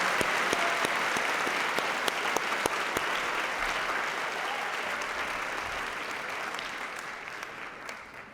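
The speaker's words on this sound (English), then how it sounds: "can we have a big round of applause for the band as they exit?" An audience at a school graduation ceremony gives sustained applause for the band, dense clapping throughout that slowly tapers toward the end.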